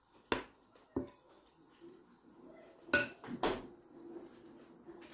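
Non-stick pan flipped over while making Vietnamese rice rolls, several sharp metallic clanks and clinks spread over a few seconds in a quiet kitchen, with faint scraping between them.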